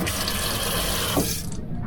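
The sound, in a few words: water in a boat's sink that is not draining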